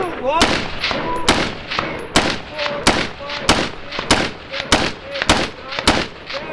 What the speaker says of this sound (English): All 10 rounds fired without a problem.